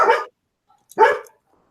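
A dog barks twice in the background, two short, fairly loud barks about a second apart with silence between, during a live online hangout.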